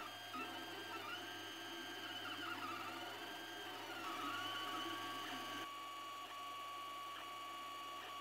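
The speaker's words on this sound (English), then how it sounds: "The printer starts the job as soon as bed and extruder reached their target temperatures." An Ender 3D printer prints a job, giving a steady faint whir of stepper motors and fan with shifting high whines and small pitch sweeps as the head moves, alone and continuous.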